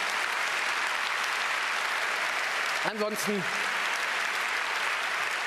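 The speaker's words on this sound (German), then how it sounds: "Applaus" Continuous crowd applause at a 32C3 congress talk holds steady throughout, while someone speaks one brief word over it midway.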